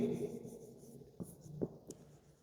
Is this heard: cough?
no